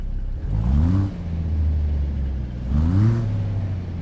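Heavy truck engine idling in neutral in American Truck Simulator, heard from outside the cab: a steady low rumble with two brief rising revs, each climbing and settling back into the idle.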